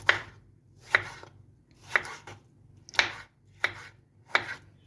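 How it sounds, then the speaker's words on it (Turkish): Steady knife chopping a tomato finely on a board, six crisp thuds at a regular pace roughly one per second, close and clear with no talk. "Bunu da ince ince doğrayalım."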